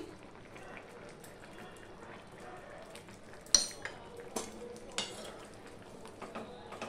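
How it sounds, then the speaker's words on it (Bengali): A drumstick curry with garam masala and ghee is gently stirred in a pan, giving soft scraping and a few light clinks of a spoon against metal over a quiet background. "এইভাবে একটুখানি নেড়ে দিলাম"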